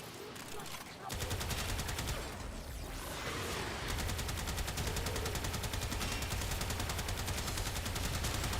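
Rapid automatic gunfire in the Warframe video game rattles loudly and almost continuously for most of the stretch, following a short, quieter opening.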